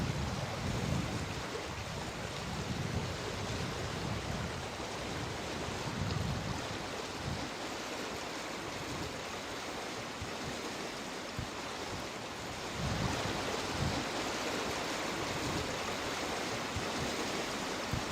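Rushing water of a river waterfall on the Ribble at Stainforth, a continuous broad roar with gusts of wind buffeting the microphone, surging louder near the end.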